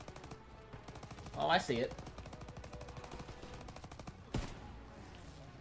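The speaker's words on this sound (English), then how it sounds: "Where is that shot coming from?" Rapid gunfire rattles through a Call of Duty: WWII campaign battle as steady, fairly faint bursts of shots and a sharper bang near the end, while a player speaks briefly over it.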